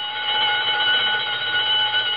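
A burglar alarm on a fur store rings steadily and loudly, an unbroken electric bell-like tone that holds the same level from start to finish with nothing else heard.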